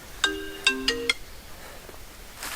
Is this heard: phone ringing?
yes